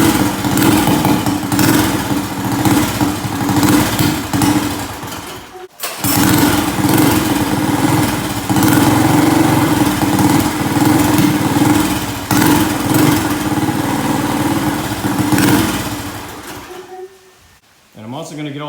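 A Chinese ATV engine runs steadily with a newly fitted deep-tone exhaust, a loud continuous droning rumble close by that briefly cuts out, then resumes before dropping off near the end.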